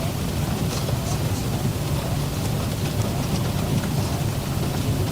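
Steady broadband rain hiss in the X-Plane 12 flight simulator, constant and moderately loud throughout with a low rumble underneath, no clear speech.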